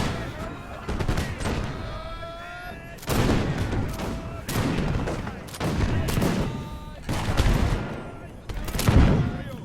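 Musket volleys fired by rank in the video game Imperial Splendour, a Russian army battle: four or five loud, separate crashing volleys at roughly two-second intervals, each rolling out with a dull reverberant tail.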